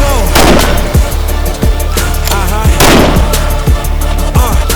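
A high-powered rifle fires at armor outdoors, with several loud, heavy shots a second or so apart, each a sharp crack with a booming tail over a constant rumbling background.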